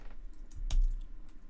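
A single computer keyboard key, the return key beside the number pad, is struck once with a sharp close click, preceded by a few faint key taps in an otherwise quiet room.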